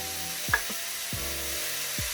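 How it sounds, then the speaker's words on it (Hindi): Shawarma frying in a hot pan over medium heat gives a steady, even sizzle throughout, with a few soft scraping touches mixed in. "अब शवारमे को मैं इसमें थोड़ा सा भून लेती हूँ"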